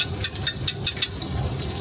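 Onion and garlic sizzle in a generous two tablespoons of hot neutral oil over medium-high heat for Thai cashew chicken, making a close, steady crackling hiss with small rhythmic pops, heard with no talking.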